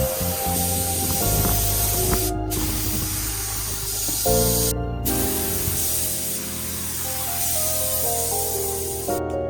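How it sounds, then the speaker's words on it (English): Steady, loud hiss of a spray gun painting a Honda Civic car hood in long continuous passes, briefly cutting out between strokes before starting again. "you could first spray it vertically and right after spray it horizontally"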